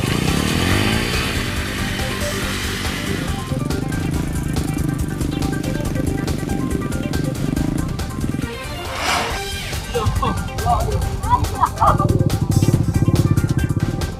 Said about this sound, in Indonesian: Pengendara bergantian mendorong motor.